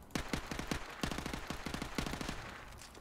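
Gunfire in the shooter Modern Warfare Remastered: rapid clusters of sharp shots in quick succession, repeating several times over a few seconds at a moderate, fairly distant level, with no talk.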